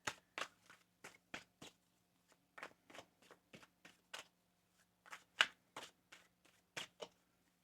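A deck of tarot cards is shuffled in quick, crisp riffles and taps, about a dozen short bursts spread unevenly over several seconds, close up with a low steady hum beneath.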